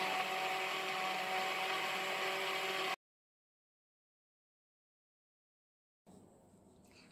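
A mixer grinder blends a jackfruit seed milkshake with a steady, loud motor whir for about three seconds, then stops, followed by silence and a faint, quieter tail of sound.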